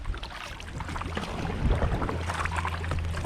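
A motor launch passes on the River Ouse in York, its engine a low, steady drone rising slightly as it nears, heard from a kayak amid wind and water noise.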